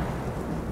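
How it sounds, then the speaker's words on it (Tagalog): Heavy rain with a low rumble of thunder, a storm sound effect in a horror story, a brief steady wash of loud rainfall with no talking. "Tuloy-tuloy ang malakas na ulan at ang mayat-mayang pagkulog at pagkidlat."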